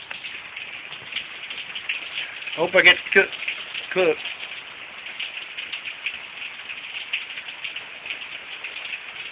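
Steady rain falls outdoors with a constant hiss of drops spattering on surfaces, continuing throughout, while someone speaks briefly over it.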